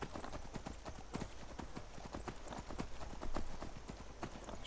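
Steady clip-clop of horse hooves trotting at a brisk rhythm in the video game Skyrim, fairly close, with a faint whinny partway through.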